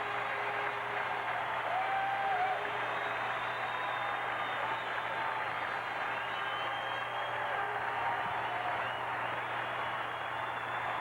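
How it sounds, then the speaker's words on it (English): Hockey arena crowd at the end of an NHL playoff game between Detroit and Montreal, a steady, dense wash of cheering and applause that holds evenly throughout without breaks. "Let's listen to the crowd."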